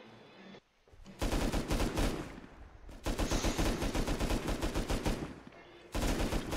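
Rapid automatic gunfire in Rust Console Edition player-versus-player tournament combat: dense bursts of loud, close shots in long runs, with brief pauses between volleys.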